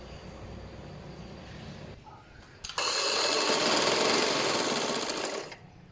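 An electric sewing machine stitches along the edge of fabric for a tissue daman dress, running in a steady, loud, rapid whir for about three seconds after softer handling noises.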